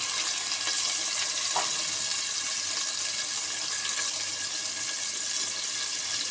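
Small cut pieces of chicken fry in a pan with onion and oil for noodles, a constant hissing sizzle with one faint scrape partway through and no one speaking.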